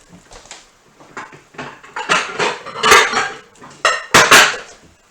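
A vintage 1973 mixing bowl is handled on a kitchen counter while salmon loaf ingredients go in, giving a series of close, irregular clinks and scrapes. The knocks build into louder bursts near the middle and again toward the end, with no talking.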